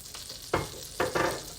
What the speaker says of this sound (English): I'm going to add a tablespoon of minced garlic.